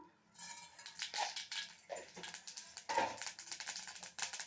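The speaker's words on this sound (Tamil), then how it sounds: "கடுகு பொரிஞ்சிச்சு" Mustard seeds spluttering in hot sesame oil in a pan, crackling and popping in dense, irregular bursts throughout, close and fairly loud, with no talk.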